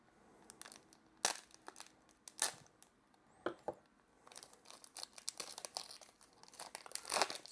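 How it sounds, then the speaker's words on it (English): A foil booster pack of Avatar: The Last Airbender trading cards is torn open up close, with sharp crinkling rips and crackles in uneven bursts. "we'll open up the pack of cards that are part of the booster fun"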